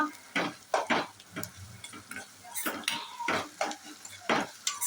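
Onions with salt and turmeric frying in a pan for a shrimp curry, stirred with a metal spoon that clinks and scrapes against the pan in irregular bursts over a soft sizzle, close and without speech.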